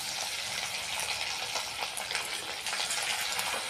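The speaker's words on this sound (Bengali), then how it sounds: "এবার গরম গরম তেল বসিয়ে দিয়েছি কড়াইয়ের মধ্যে। এবার গরম গরম ভেজে নেব।" Lemon chicken pieces fry in hot oil in a kadai, making a dense, continuous crackling sizzle at a steady close level with no voices.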